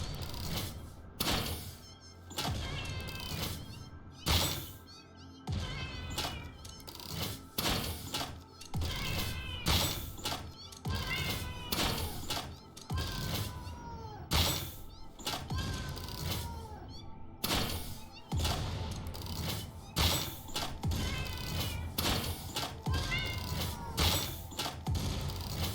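A creature called a kitty in the video game Satisfactory gives repeated rising, meow-like cries, with thuds and crashing impacts from combat throughout a busy, continuous mix.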